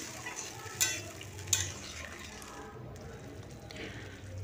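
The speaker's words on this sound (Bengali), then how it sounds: "দিয়ে এটা ভালো করে মিশিয়ে নিচ্ছি।" A batter of cornflour, soy sauce, chilli sauce and a little water being stirred in a pan, soft continuous scraping and mixing with two brief clinks of a utensil, fairly quiet.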